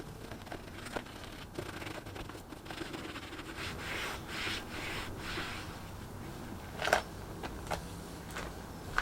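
Cloth rubbing black T-cut polish onto motorcycle trim on a Kawasaki VN900 Custom, soft close scrubbing strokes in an uneven rhythm, quiet, with a few sharper scuffs near the end.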